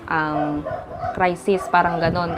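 A dog barks and yips repeatedly at close range indoors, in loud insistent bursts that overlap someone speaking Tagalog during a water kefir preparation demo.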